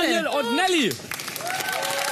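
A studio audience at a children's TV show bursts into loud applause right after a brief spoken farewell, the clapping carrying on steadily to the end with light speech over it.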